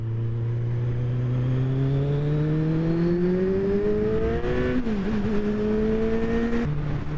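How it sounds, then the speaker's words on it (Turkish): A Kawasaki Z1000 motorcycle engine with twin Akrapovic exhausts drones steadily and rises slowly in pitch as it revs, with a brief dip and blip near the end; loud and close. "Üzerinde sağlı sollu iki adet Akropovic egzoz mevcut. Sesi oldukça güzel"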